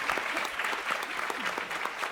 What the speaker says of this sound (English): Alexandre, big applause.